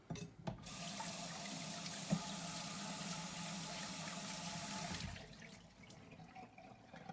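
Water runs steadily from a kitchen tap for about five seconds while potatoes are being prepared. The close, constant rush then cuts off, leaving quiet room sound with a faint clatter at the end.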